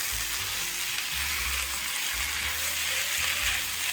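Squid and pork belly stir-frying with onion in a hot pan for a Korean spicy squid-and-pork dish, giving a steady, dense sizzle with soft stirring scrapes, close and continuous with no talking.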